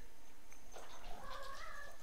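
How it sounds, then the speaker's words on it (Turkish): A cat gives a faint, drawn-out meow with a wavering, rising and falling pitch over a steady background hiss, lasting about a second. "kediler kafayı yiyor bu arada"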